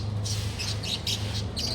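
A rare bird being released to fly home calls close by with a rapid series of about six sharp squawking chirps in a quick rhythm, over low background rumble.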